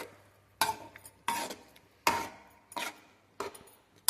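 Cashew and almond paste is stirred into chicken and rice in a pot, with five or six separate scraping strokes of a spoon against the vessel, each loud and close, separated by quiet gaps.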